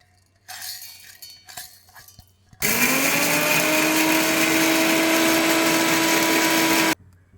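A mixer grinder whirs loudly and steadily as it grinds roasted fenugreek and mustard seeds for lemon pickle, starting abruptly after a few faint clinks and running continuously for about four seconds before cutting off.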